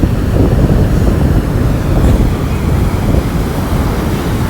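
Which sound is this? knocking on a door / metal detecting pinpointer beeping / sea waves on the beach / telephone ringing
sea waves on the beach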